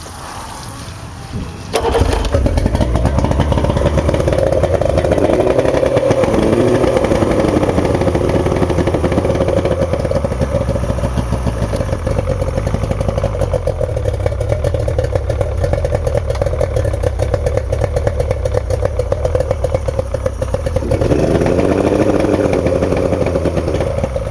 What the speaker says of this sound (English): what's going on with this motor is it's around a 2000 Yamaha 3-cylinder 90.